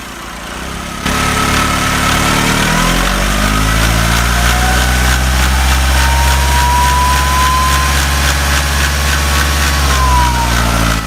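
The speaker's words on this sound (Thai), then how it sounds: "มีปัญหาคือมีเสียงเครื่องยนต์ดังผิดปกติครับเดี๋ยวไปฟังกันครับ" A Nissan Navara YD25 diesel engine starts and idles loudly and close by, with a rhythmic clattering knock from a faulty timing chain running through its steady drone.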